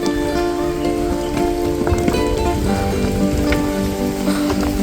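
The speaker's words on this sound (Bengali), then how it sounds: "বৃষ্টি পড়ছে বৃষ্টি পড়ছে বৃষ্টি থামার কোনো নাম বন্ধ নেই" Monsoon rain pours steadily on a road trip in West Bengal, a close, even patter on surfaces with a faint tonal hum running underneath and no talk.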